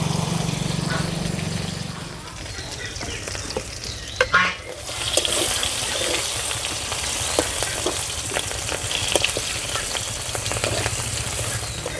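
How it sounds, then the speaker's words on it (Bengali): Prawns frying in hot oil for a village-style jute leaf curry, a steady close sizzle throughout with a brief clatter of stirring or lifting near the middle. "মাছগুলো ভাজা হয়ে গেছে এবার আমি তুলে নেব"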